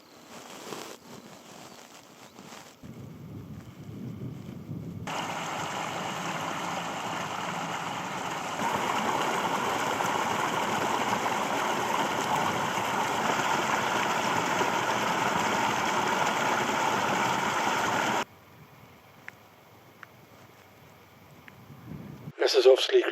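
A tractor and a quad bike hauling a trailer run on a mountain turf track, a steady engine drone rising after a quieter start and cutting off near the end, with faint voices at the edges.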